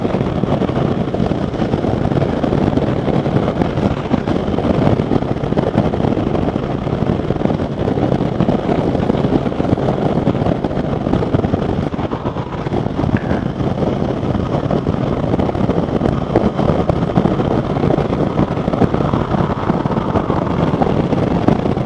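A 2020 Indian Chieftain Elite motorcycle cruises in sixth gear on a highway, giving a loud, steady roar of engine and wind buffeting that lasts throughout without a break.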